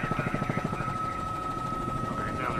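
A helicopter's rotor thumps rapidly and then blurs into a steady engine drone with a high whine, fairly close, with faint voices underneath.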